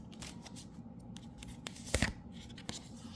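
Tarot cards are shuffled by hand in a soft, quiet riffle and a few faint slaps and rustles, with a slightly louder flurry near the middle and no voices.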